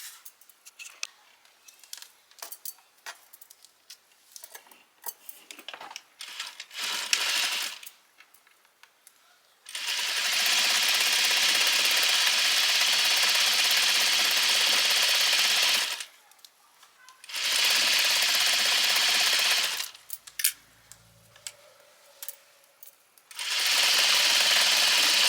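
A sewing machine runs in three long, steady bursts while back stitching a Simplicity 3010 garment, preceded by scattered clicks and handling noises, close and loud with no voices.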